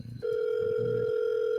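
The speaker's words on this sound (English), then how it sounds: "It's just going to like a disconnected sound." A telephone call goes dead into a steady, unbroken electronic tone that starts suddenly after a brief moment of faint background noise, then holds at an even level.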